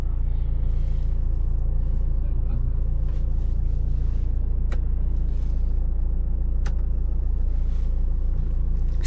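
A 2010 Opel Astra H TwinTop OPC Line with a six-speed manual gearbox drives along, its engine and road rumble a loud, steady low drone, with a couple of sharp clicks and light rattles inside the cabin.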